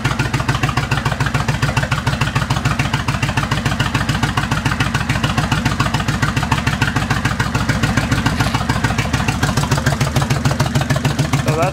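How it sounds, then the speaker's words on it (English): 2004 Kawasaki Vulcan 1500 motorcycle idling through Vance & Hines Long Shots exhaust, a steady loud lumpy thump repeating evenly for the whole stretch, close up with no voices. "That's the Vanson Hines long shots with the quieter bevel"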